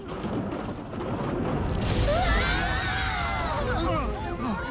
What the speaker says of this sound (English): Another storm? Something weird is going on!